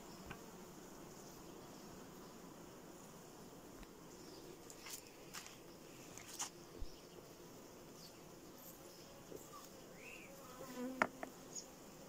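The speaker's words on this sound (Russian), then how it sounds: "Вот, а здесь пчелы полно." Dense, steady buzzing of a crowded honey bee colony in a hive packed with bees and queen cells during swarming season, a continuous drone with a few individual bees flying close past.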